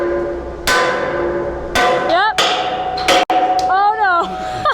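A hammer rings out against a small piece of metal at a home building site in Panama, several sharp metallic strikes spaced unevenly with a resonant ping after each, close and loud, with someone speaking briefly.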